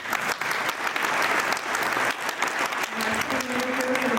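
An audience at a State of the City event applauds to welcome Mayor Halsey, a steady full round of clapping that carries on throughout, with a voice starting up faintly near the end.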